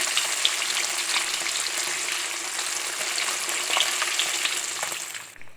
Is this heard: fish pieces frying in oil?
yes